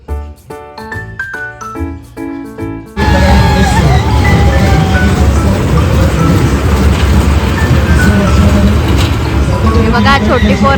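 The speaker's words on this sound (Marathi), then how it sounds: "त्यांच्यासाठी प्रायव्हेट केलाय आम्ही ट्रेन." At the Dronagiri festival, a short burst of melodic music gives way to the loud steady rumble of a children's ride-on toy train, with faint chiming and crowd voices mixed in.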